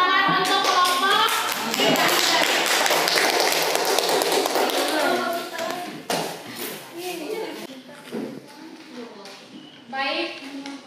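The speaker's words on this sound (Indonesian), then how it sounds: "Tepuk tangan untuk kelompok." Classroom audience clapping for a presenting student group, a loud sustained round of quick hand claps that fades after about six seconds, followed by scattered taps and children's voices talking.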